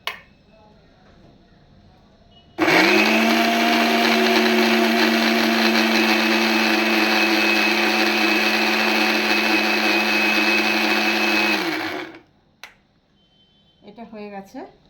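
An electric blender purees mango with a little sugar into a paste in one loud, continuous whirring run of about ten seconds that stops abruptly, followed by a few light clinks.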